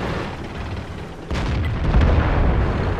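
A tank cannon fires at a KV tank in a tank combat game with a Cromwell. There is one heavy, booming shot partway through, then a loud rumbling tail that stays behind it.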